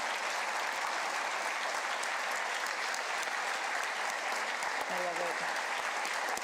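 An audience applauds at a South Dakota State of the State address, a dense, steady wash of clapping heard from a distance, with a brief voice rising over it near the end.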